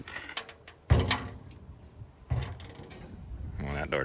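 Door on a Pro Late Model race car pit cart swinging open and shut, two loud knocking thuds with rattling in between, someone talking quietly nearby.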